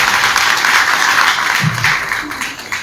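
Party workers from surrounding villages applaud at a rally in Chotila, giving a dense, loud burst of clapping that fades slightly toward the end.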